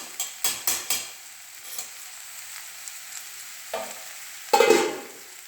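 Vegetables with turmeric and chopped garlic fry in a pan, a soft sizzle broken by several sharp scraping stirs early on and a louder burst of stirring near the end.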